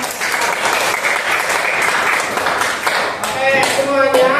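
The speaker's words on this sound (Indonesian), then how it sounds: "Berikut tepuk tangan buat kelompok yang" A classroom group applauds together, dense steady clapping from many hands at close range, with voices briefly audible toward the end.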